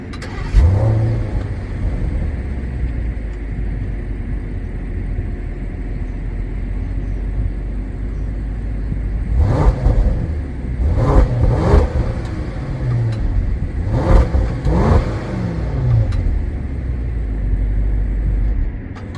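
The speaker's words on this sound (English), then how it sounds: "I might as well start it up and let you listen to the exhaust sound" A 2023 Range Rover with quad exhaust starts with a deep rumble and settles into idle, then gives a series of sharp revs that rise and fall, clustered in bursts, loud and close with no talking.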